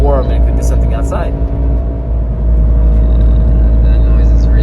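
A Scion tC with a noisy, bad-sounding cabin drones steadily while driving, a dense low rumble of engine and road noise from inside the car, with a few faint voice-like sounds near the start.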